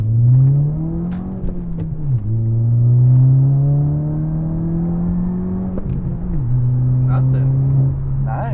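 An Audi A4 with a 2.0T engine fitted with R8 coil packs revs hard in first gear, a loud sustained drone rising and dipping through repeated pulls, with people talking in the car.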